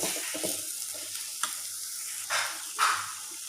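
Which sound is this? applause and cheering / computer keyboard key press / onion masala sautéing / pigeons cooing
onion masala sautéing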